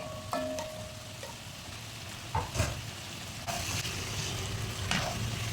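Garlic fries in oil until crispy, a steady close sizzle broken by several sharp clinks and scrapes of a utensil stirring in the pan, with no talking.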